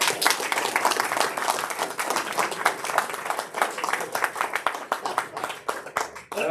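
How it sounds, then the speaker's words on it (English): A round of applause at a Rotary International award presentation, a roomful of hands clapping steadily and densely for several seconds at a moderate distance, holding a lively, unbroken patter throughout. "that deserves a round of applause."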